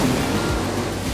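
Water waves on the Hudson River in the racing game Motor Nation, a steady, dense wash of surf and churning water with a low rumble underneath, loud and continuous, no talk.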